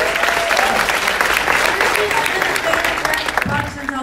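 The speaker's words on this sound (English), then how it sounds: "Can we give him a big round of applause?" Loud, close applause from a crowd at a film Q&A event fills the clip, with cheering voices and shouts mixed in, tapering slightly near the end.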